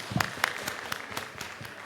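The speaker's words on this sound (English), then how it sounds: "Let's give them a little applause for presenting." A small conference audience claps for the session's speakers, with distinct, loosely spaced claps in a short burst close to the microphone.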